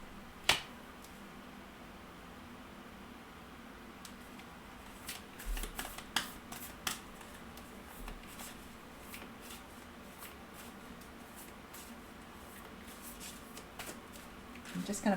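Oracle cards being shuffled by hand, soft papery riffles and flicks in short bursts, quiet and close in an otherwise hushed room with faint background hiss.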